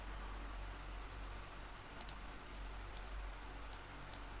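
A computer mouse clicked while writing on screen during a maths lesson gives four faint, sparse clicks over a steady background hum, with nobody speaking.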